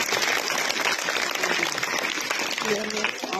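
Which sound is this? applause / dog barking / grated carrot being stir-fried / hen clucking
applause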